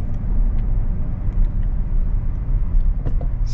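Tire roar from a 2022 Toyota Tundra TRD Off-Road on 35-inch tires and 20-inch wheels, a continuous low rumbling road noise inside the cab while driving, loud and steady with no voices.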